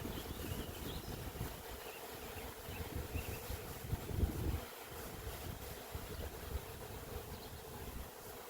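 A honey bee swarm outdoors in strong wind gives a faint, continuous buzzing hum, partly masked by gusting wind noise on the microphone.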